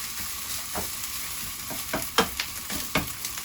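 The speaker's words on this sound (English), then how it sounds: "start stirring it like this. And make sure the rice won't stick together." Fried rice stirred in a hot pan, with a steady low sizzle broken by several sharp scraping strokes at an uneven rhythm, close and moderately loud.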